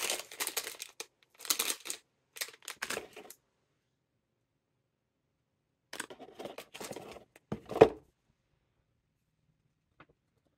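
Packaging of a Pokemon 2021 Trainers Toolkit box being opened: bursts of crisp crinkling and rustling come in short clusters, separated by a stretch of silence and ending with a sharper tearing crackle and a final faint tick.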